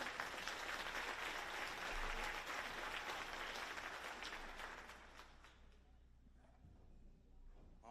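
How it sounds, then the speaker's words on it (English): Audience applause at the DeKalb Virtual Career Academy closing celebration, a dense, quiet clapping wash that fades over the last few seconds, leaving low room murmur. "Please give a round of applause."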